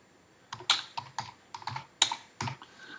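Keys clatter on a computer keyboard as a baseball card entry is typed in, about a dozen crisp, close clicks arriving in short irregular bursts with brief pauses between them.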